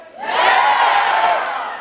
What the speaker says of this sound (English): let me hear you say yes